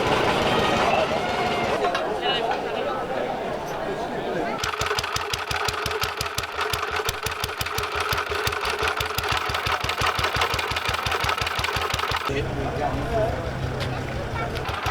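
An old tractor engine runs with a fast, steady mechanical chugging that dominates the middle section and then stops abruptly, while people talk before and after it.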